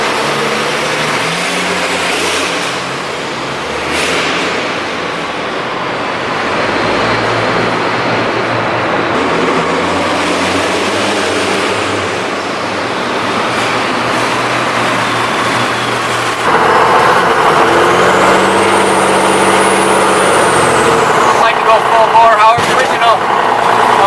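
A Cummins 12V 6BT diesel engine swapped into a 1963 Chevy C10 runs steadily at idle, a continuous mid-pitched rumble that grows louder partway through, with a person talking over it.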